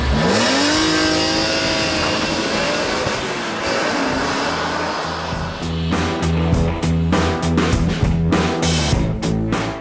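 A BMW M3 E46 engine revs hard and climbs through the gears, pitch rising and dropping with each shift, close and aggressive.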